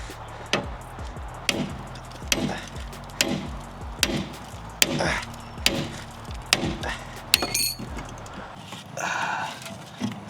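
A sledgehammer repeatedly whacks a tie rod fork on a Chrysler 300 during tie rod work, producing about a dozen heavy, close metallic blows in an irregular rhythm, with a brief scraping clatter near the end.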